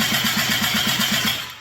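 Yamaha triple snowmobile engine fitted in a Polaris RZR XP cranking over, a loud rhythmic starter churn with even pulses about eight per second, close and alone, cutting off abruptly.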